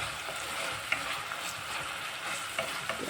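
Food for rajma is gently stirred in a pan over low heat, a quiet, steady sizzle with soft scraping and a few light taps of the spoon.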